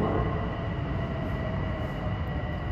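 An LIRR train pulls into Elmont station, producing a loud, close and continuous rumble of wheels and carriages that holds steady throughout, with no talking.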